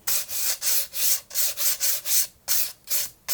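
Sandpaper rubbing the painted wooden edges of a vintage toy box in quick back-and-forth strokes, about nine close, soft scratchy passes in a steady rhythm with tiny pauses between them.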